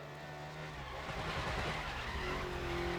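A race car slides sideways through a drift in GRID Legends, its engine roaring loud and close while the tires squeal and scrub continuously.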